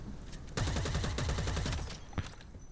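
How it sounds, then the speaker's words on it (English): Rapid automatic gunfire in the sci-fi shooter EVE Vanguard, a fast even burst of shots lasting over a second, followed by a single louder shot, close and alone. "The guns are just BB guns though."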